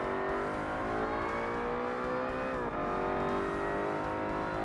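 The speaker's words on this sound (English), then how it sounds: "This is the oddest sounding engine I've ever heard." Race car engine in Forza Motorsport, an R-GT class car, a continuous loud oscillating whine with steady revving tones and brief gear shifts, no talk.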